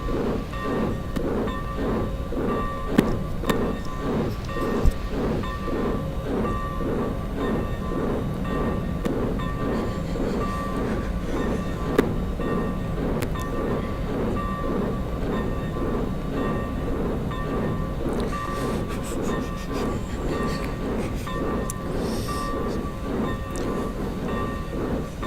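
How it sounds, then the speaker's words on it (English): CP 2816, a historic steam locomotive in the Open Rails train simulator, pulls a passenger train on the Laggan Subdivision with a steady rhythmic chuff and rolling rail noise, a few faint clanks, and no voices. "this beautiful looking historic passenger train"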